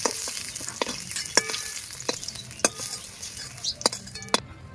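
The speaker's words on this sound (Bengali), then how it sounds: "পটল আলুগুলো ভালো করে ভেজে নিয়েছি" Potol and potato pieces fry in a pan, a steady soft sizzle broken by sharp clinks and scrapes of a utensil stirring against the metal.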